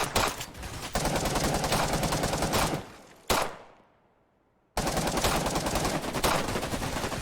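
Glock pistol fire in the video game Operation: Harsh Doorstop, a magazine emptied in rapid dense bursts, loud and close, broken by a brief pause and a short silent gap before the shooting resumes.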